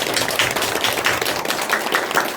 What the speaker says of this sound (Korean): 우리 하나님의 영광의 박수 한번 올려주세요